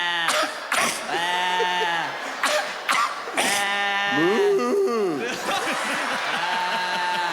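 A man imitates a sheep with a run of wavering, nasal bleats, several in a row with short gaps, loud and close, with bits of chuckling mixed in.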